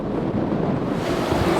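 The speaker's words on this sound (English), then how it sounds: "Insane wind." Strong wind at sea aboard a sailboat, around 30 knots gusting near 40, roars as loud, constant buffeting across the microphone with a low rushing rumble of wind and water throughout.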